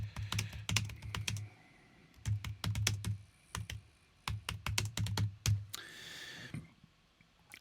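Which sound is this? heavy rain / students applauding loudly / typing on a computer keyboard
typing on a computer keyboard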